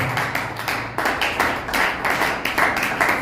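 A church congregation clapping together in praise of the Lord, a dense steady rhythm of many hands with no voices, recorded close and loud.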